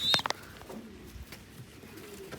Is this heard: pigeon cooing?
yes